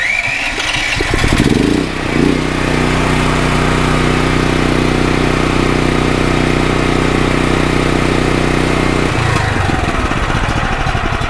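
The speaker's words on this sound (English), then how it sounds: "That's the idle." A DuroMax XP13000EH portable generator engine idling loudly up close, a steady droning rumble that settles after a rougher start and shifts near the end as the idle control acts.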